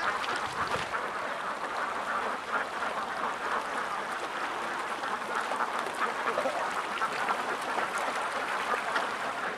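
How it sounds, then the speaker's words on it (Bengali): Ducks on a farm dabble and quack steadily while feeding on grain in water, a dense chorus of overlapping calls and splashy pecking heard from nearby without a break. "হাঁসগুলা পানি থেকে দান নিচ্ছে"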